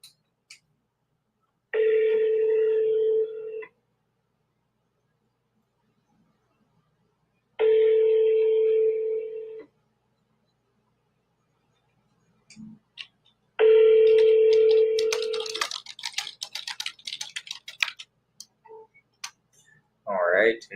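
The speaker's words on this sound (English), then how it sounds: "Just making phone calls right now." Phone dialing for sales calls: three separate stretches of steady ringback-like tones, each about two seconds long, spaced out over quiet gaps, with a burst of clattery noise and a short voice near the end.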